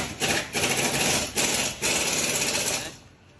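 A dense, continuous metallic rattling clatter from a worn steering rack link on a Toyota Estima, loud and close, pulsing slightly in bursts before fading at the end.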